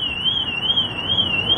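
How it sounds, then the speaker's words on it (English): A BMW car alarm sounds loud and close, a steady wavering electronic tone rising and falling in a regular pulse, triggered by opening the car from the inside after a fix for the car not beeping when locked. "open it from the inside so you can hear the alarm actually work"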